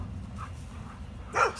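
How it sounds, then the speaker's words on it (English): A single dog bark sounds out back from a neighbouring yard, distant and fairly faint over low steady outdoor background noise. "The irritating dogs out back are out and about"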